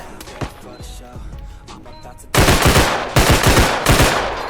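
Rapid bursts of gunfire in the video game Bodycam, first quieter and scattered, then loud sustained volleys of sharp repeated shots.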